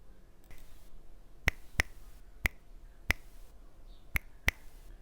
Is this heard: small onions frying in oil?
no